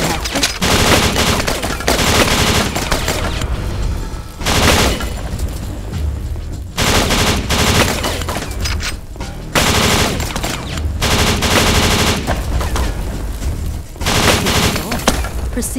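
Rapid automatic gunfire in the Kill Switch video game training level, loud sustained bursts of machine-gun fire separated by short pauses, close and dense throughout.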